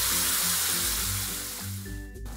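Coriander leaf paste hitting hot oil in a pan, a loud hiss that gradually settles into a quieter bubbling sizzle, with no talking.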